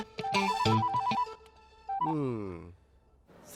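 A telephone ringing with a tonal, melodic ring pattern that comes in bursts, fairly loud, with a voice speaking between the rings.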